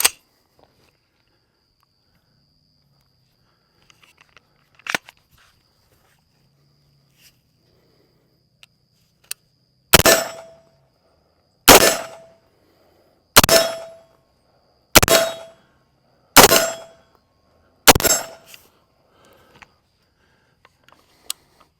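Six unsuppressed .300 Blackout subsonic rifle shots, loud and sharp, fired at an uneven pace of about one to two seconds apart. Each has a quick ringing decay, and faint small clicks come before the volley.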